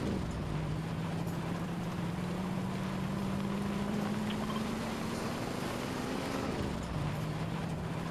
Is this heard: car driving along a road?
yes